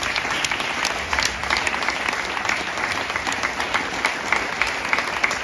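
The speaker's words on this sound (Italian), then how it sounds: "è giusto che si prendano i meritati applausi" Warm, continuous applause from a theatre audience honours the backstage crew of an Italian stage production, many hands clapping steadily at a close, even level with scattered sharper claps throughout.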